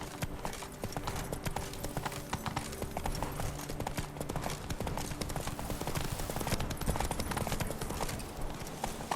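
Hooves of the horse Roach clop in a fast, steady galloping rhythm in the Witcher 3 game, loud and close over faint background game audio.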